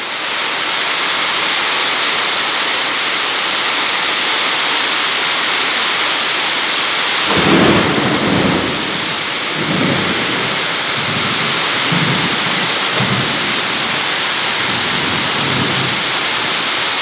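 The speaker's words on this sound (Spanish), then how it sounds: "Todo por aquí está lloviendo." Heavy rain pours steadily across the whole stretch, with a thunderstorm's low rumbles rolling in during the second half, loud and close, with no talking.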